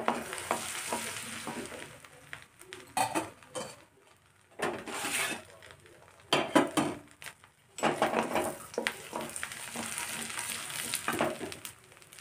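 Cumin with red chilli powder, Kashmiri chilli, turmeric and salt frying in hot oil for dhaba-style pav bhaji, with bursts of sizzling broken by stirring and scraping of a spoon in the pan, and brief quieter gaps.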